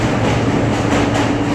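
NYC subway R160 M train bound for 96th Street–2nd Avenue running between stations, a loud steady rumble of wheels and car noise filling the whole stretch.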